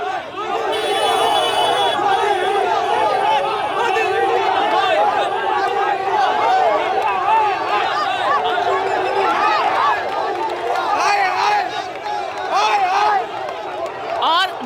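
An angry protest crowd on a Delhi street shouts and chants continuously, a dense mass of raised voices with cries rising and falling, loud and close throughout.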